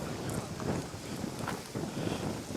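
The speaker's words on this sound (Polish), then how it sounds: "A jednak wiatrzysko się zerwało dzisiaj." Strong wind buffets the microphone outdoors at a flea market, a steady low roar with gusty swells, fairly faint overall and no talking.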